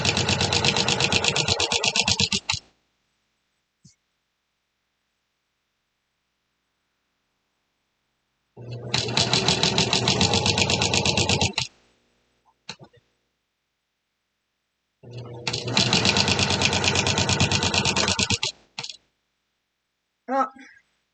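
A sewing machine stitching a quilt-as-you-go table runner runs in three loud, steady bursts of a few seconds each, separated by silent pauses with an occasional small click.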